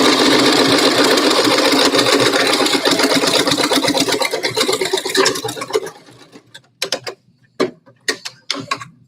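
A sewing machine back stitches a cloth face mask, running in a steady rapid mechanical whir for about six seconds, then stopping and giving way to scattered short clicks and taps of handling.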